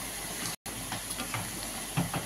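Moong dal for a fish-head dish simmering with a spoon of ghee added, a soft steady sizzle and bubbling with faint stirring clicks, briefly cut to silence.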